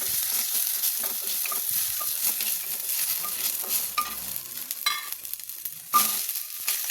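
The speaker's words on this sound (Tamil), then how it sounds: "பூண்டு போட்டு வறுக்கிறோம்ப்பா." Garlic and curry leaves fry in oil in a clay pot, giving a dense, steady sizzle close up with scattered stirring scrapes and soft knocks throughout.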